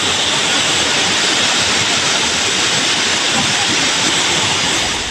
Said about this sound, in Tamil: புன்னம்புழா ஆறு மற்றும் சிறு சிறு ஓடைகளில் காட்டாற்று வெள்ளம் போல் பெருக்கெடுத்து ஓடியது.